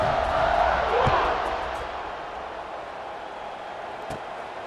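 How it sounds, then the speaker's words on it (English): Stadium crowd from the game College Football 26 roaring loudly at first, then settling into a steady broad buzz, with a commentator's voice over it. "this crowd is buzzing after that last score"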